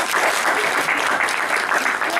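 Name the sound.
applause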